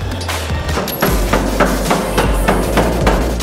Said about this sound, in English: It's time to fire up the hammer and get this thing welded and drawn out.